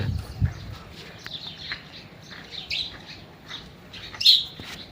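Small birds chirp in scattered bursts against a quiet background, with one sharper, louder chirp near the end.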